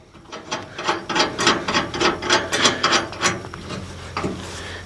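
A wrench ratchets rapidly while tightening bolts on a brush hog, a rhythmic run of about a dozen clicking strokes, close and loud, slowing at the end, with no talking.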